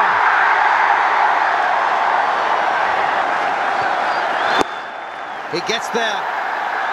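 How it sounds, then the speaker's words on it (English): Cricket crowd at a one-day international applauding Sachin Tendulkar's century, a dense, sustained roar of clapping and cheering from a large stadium audience under commentator talk, dropping abruptly to a quieter murmur near the end. "a knowledgeable audience will applaud his effort, as will his players' gallery"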